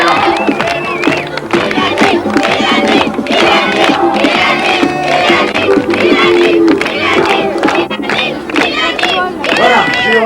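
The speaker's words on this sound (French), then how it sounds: "On l'applaudit, Muriel." A loud crowd applauding and cheering for Muriel Montosset on a 1988 Cannes broadcast, a dense, continuous roar of claps and shouts filling the whole stretch without a break.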